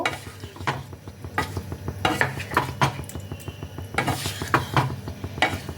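Cauliflower curry ingredients with a little sugar are mixed in a pan, with repeated scraping strokes of a spoon against the metal over a soft sizzle and occasional clinks, close and fairly loud.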